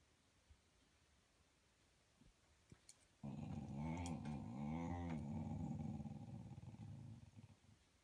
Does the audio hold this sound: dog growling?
yes